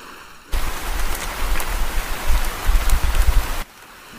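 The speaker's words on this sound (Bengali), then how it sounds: "বৃষ্টি নামতেছে।" Rain falling over a stormy sea at night in an animated horror story: a dense, hissing downpour starts abruptly, holds steady and loud for about three seconds, then stops sharply.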